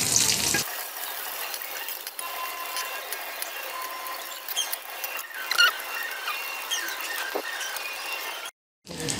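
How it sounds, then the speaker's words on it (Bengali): Eggs frying in hot oil for a spiced egg curry, a steady close sizzle and crackle with occasional squeaks and clinks of a utensil against the pan, cutting out briefly near the end. "ডিমগুলো হালকা বাদামি কালার করে ভাজতে হবে।"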